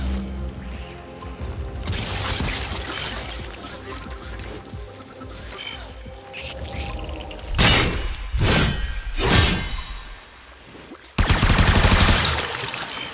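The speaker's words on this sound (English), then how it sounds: "Destroy it with weapon fire." Weapon fire tears into an alien hive in the sci-fi shooter Warframe: loud bursts of gunshots with a shattering, breaking crunch, three sharp impacts in quick succession and a heavy final blast over a dense, busy game backdrop.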